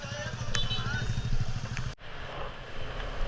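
A motorcycle engine idles and churns at close range while the bike rides through knee-deep flood water on a commute, a steady low rumble with a brief dip in the middle and sloshing water noise around it.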